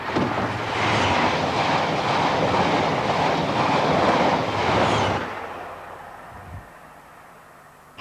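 A diesel train hurries west through Highbridge station, a loud, dense rumble of passing carriages that cuts off abruptly and leaves quiet ambience behind.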